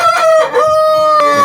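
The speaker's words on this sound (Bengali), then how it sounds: "দেখেন অবস্থাটা, কত সুন্দর একটা মোরগ" A rooster crows loud and close, a single sustained, strongly tonal crow that fills the clip with no talk over it.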